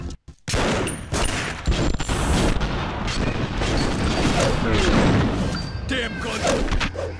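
Rapid gunfire in The Punisher video game, a sustained loud barrage of shots and impacts after a brief quiet start, with heavy thuds and crashes mixed in and a voice shouting over it.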